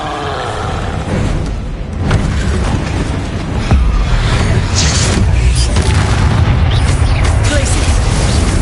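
Loud, sustained bursts of magical explosions from the Bombarda spell in the video game Hogwarts Legacy, with booming blasts and crackling effects layered over game noise and shouted spell names.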